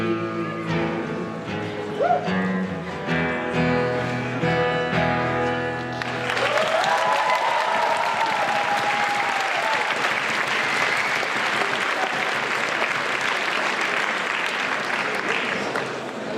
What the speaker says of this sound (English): another round of applause, please, for their speeches